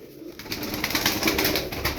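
Tumbler pigeons coo in a steady, close, continuous murmur of soft throaty calls over a faint rustling background, with no voices.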